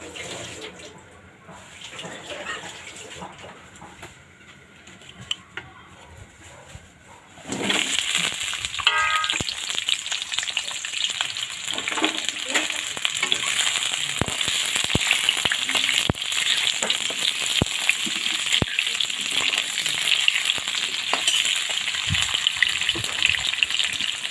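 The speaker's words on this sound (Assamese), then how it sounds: "প্ৰথমে মই আলুখিনি ভাজি লওঁ। এয়া মই কেৰাহীত তেল দিলোঁ।" Potatoes frying in oil in a wok: a quiet opening with faint clinks, then a sudden loud burst of sizzling that continues steadily and close for the rest, dotted with spatters and no voices.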